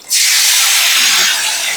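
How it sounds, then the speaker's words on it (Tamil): Tomatoes dropped into a spoonful of hot oil in a pan sizzle loudly in one sudden, sustained hiss that fades slightly toward the end, with no talking. "இன்னும் ஒரு ஸ்பூன் எண்ணெயை விட்டுண்டு இந்த தக்காளியை அதில் போட்டுடணும்"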